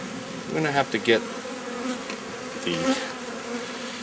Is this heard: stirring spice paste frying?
no